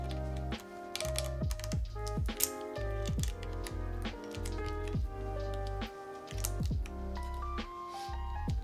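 Fast, steady typing on an Encore Series 3 mechanical keyboard with Granite keycaps, a close, dense run of clacking keystrokes with an occasional louder thock from a bigger key.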